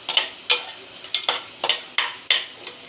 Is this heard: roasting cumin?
yes